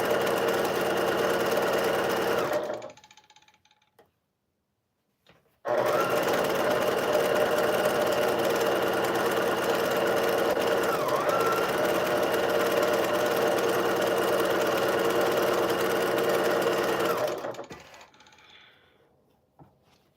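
A sewing machine stitching quilt strip sets runs in a long steady whir, stops briefly, then starts again and hums continuously for about twelve seconds before winding down; close and fairly loud.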